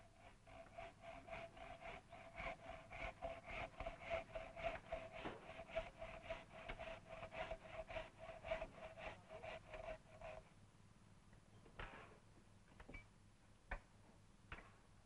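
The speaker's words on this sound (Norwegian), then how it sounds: "Å saga ut for stavsøyra var tomannsarbeid." A large two-man saw cuts through a wooden stave post in steady rasping strokes, rhythmic and close for about ten seconds, then stops, leaving a few scattered knocks and taps.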